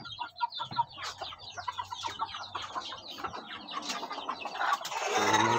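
Two native chickens cluck and chatter busily close by in a small backyard garden, a dense run of rapid clucks that swells into a louder rustling burst at the end, with no talking.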